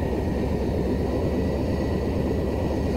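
Airplane engine in a flight simulator game as the throttle is pulled back, a steady, loud droning roar with no clear change in pitch or level, and no talking.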